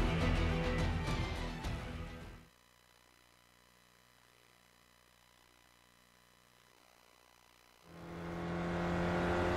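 An SRF race car in iRacing at Watkins Glen: a loud engine roars for a couple of seconds, cuts to near silence, then revs back up hard toward the end.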